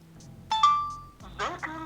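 A boAt Enigma Gem smartwatch rings for an incoming Bluetooth call, short bright electronic ringtone chimes up close, with someone speaking over it.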